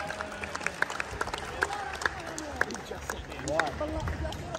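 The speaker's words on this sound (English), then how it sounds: "And in first place, a big round of applause to James Moore." A crowd at a ramp skating contest claps and cheers, with scattered sharp claps and hoots over a busy murmur of voices.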